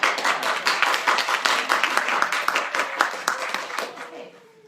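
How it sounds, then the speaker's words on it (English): A small audience at a business panel claps, with distinct, fairly close individual claps forming an uneven patter that thins out and fades near the end. "Let's give that applause"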